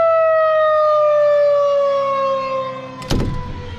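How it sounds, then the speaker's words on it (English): Tornado sirens wail outdoors in a long sustained tone that slowly drifts downward, loud and steady, then a sudden thump or clatter breaks in near the end. "The nader sirens are going off"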